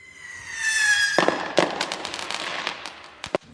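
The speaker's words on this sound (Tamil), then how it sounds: "மக்கள்லாம் பட்டாசு வெடிச்சு கொண்டாடுறவன்னு நினைக்கிறேன்" Cartoon firecrackers burst in celebration: a rising whistle leads into a run of sharp cracks and pops, some loud and close, with a crackling spray in between and no talk.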